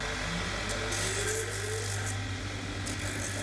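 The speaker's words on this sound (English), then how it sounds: "Going to go over to the grinding machine while we're waiting and just trim this one up." A grinding machine trims a worn boot heel during a heel replacement in a shoe repair shop, giving a continuous abrasive rasp over a steady motor hum at an even, moderate level.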